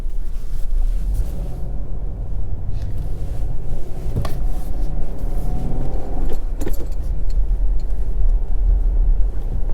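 A Subaru Crosstrek with a 6-speed being driven, heard from inside as a steady loud low engine and road rumble, with a couple of brief clunks and rattles along the way.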